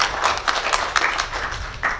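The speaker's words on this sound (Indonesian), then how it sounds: "Tepuk tangan dulu untuk Aula Perjuangan" A hall audience claps in a moderate, roughly even rhythm, with distinct individual claps standing out over a softer background of clapping.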